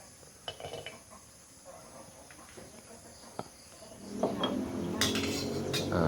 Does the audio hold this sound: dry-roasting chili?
yes